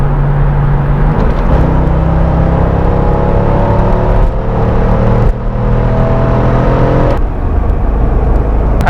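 A roughly 400-horsepower car weighing just over 3,100 pounds revs hard and accelerates through several gear changes, its engine note rising in loud surges broken by brief shift dips.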